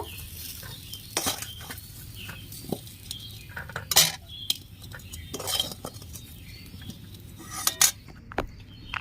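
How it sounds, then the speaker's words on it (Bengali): Metal spoon scraping and tapping on an oiled plate while shaping a lentil-cake (dhoka) mixture, several clinks and scrapes at irregular intervals over a faint steady background hum, no talking. "এভাবে চামচ দিয়ে আমি ধোকাটা তৈরি করে নেব"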